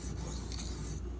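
A D2 steel knife blade rubs across an aluminum oxide whetstone in a short, steady rasping stroke at close range, with no talking.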